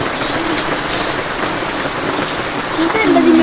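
Steady rain patters on a surface nearby, a dense continuous hiss with scattered drops; a faint voice rises briefly near the end.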